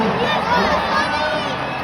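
A crowd cheers on Sonny with lively shouting and excited voices, and cries rise and fall in a continuous, energetic swell.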